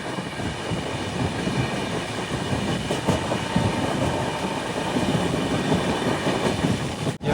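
Kerala Express sleeper train rolling past a small station on the Bhopal to Nagpur route, a steady loud rumble with rhythmic clickety-clack of wheels over rail joints throughout, heard from close inside the moving train.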